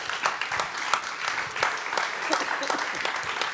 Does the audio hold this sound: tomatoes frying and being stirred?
no